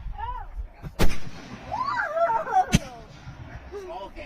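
Two sharp booming bursts from 4-inch canister firework shells, about two seconds apart, ring out amid whistling and crackling effects, with some background voices in between.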